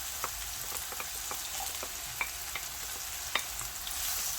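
Chopped red and green bell peppers fry in a pan for chicken quesadillas, a quiet steady sizzle punctuated by light spatula taps and stirring clicks, fairly faint and without any talking.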